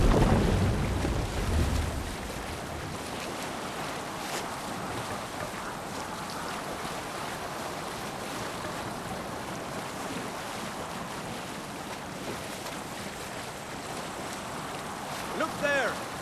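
A Viking longship sails across open sea in Assassin's Creed Valhalla, with a steady, continuous wash of waves and wind noise that holds at an even level throughout.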